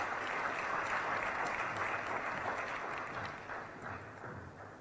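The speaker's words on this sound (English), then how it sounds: "A round of applause for Stephen" Sustained applause from a conference audience at a CEO summit on economic growth, a dense wash of many hands clapping at steady loudness that thins slightly toward the end.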